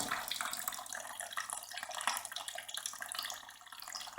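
Grape must from Assorti and Frontignac Gris grapes pours out of a wine press under its own weight, making a steady, hissing splash of liquid that runs without a break.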